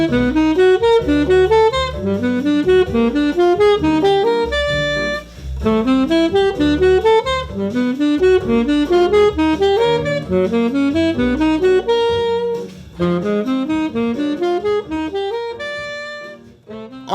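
A jazz pattern of seventh-chord arpeggios runs through the chord changes, with quick, evenly spaced notes in a bright piano-like tone, loud and continuous with only brief pauses.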